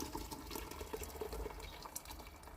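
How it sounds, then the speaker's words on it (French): Boiling water pouring into couscous sauce in a home kitchen, a steady liquid splash and fill that runs continuously at moderate level with no talking. "je vais mettre l'eau bouillante."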